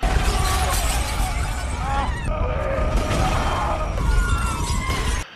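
Loud, dense shattering and crashing fill the whole span as a film scene destroys everything around, with a continuous rumble and a short pause midway.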